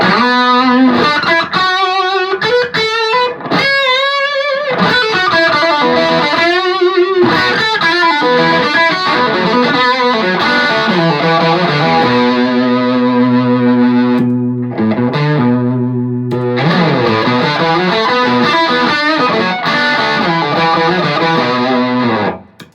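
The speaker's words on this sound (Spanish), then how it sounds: "Vamos a subir un poco la ganancia para que veáis el grado de saturación que tiene este pedal." Electric guitar through an overdrive pedal with the gain raised, playing loud saturated chords and single-note lines continuously, with a brief dip before the riffing resumes.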